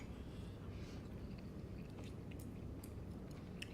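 Close, steady chewing and crunching of a bird's nest dim sum filled with asparagus and lobster at a Hong Kong dim sum meal, soft wet bites repeating without pause and no talking.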